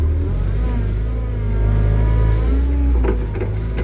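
A Linde H35T gas-powered forklift drives along with its engine running steadily at close range, a continuous mid-pitched motor hum that swells slightly midway, with no voices present.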